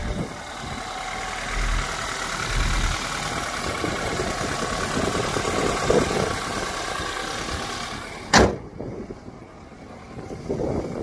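A cold 2014 BMW X3 xDrive28i idles just after a push-button start, a smooth, steady engine hum with wind buffeting the microphone and a sharp bump near the end.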